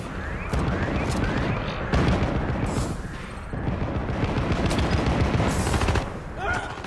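Sustained gunfire from assault forces in the video game Syndicate, dense rapid shots and bursts layered over one another in a loud, continuous barrage with brief lulls.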